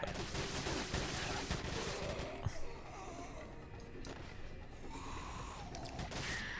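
Gunfire in the Resident Evil 4 Separate Ways Ada campaign, with sniper rifle fire mixed into a dense, continuous crackle of shots and noise that stays loud throughout, with one sharper report near the middle.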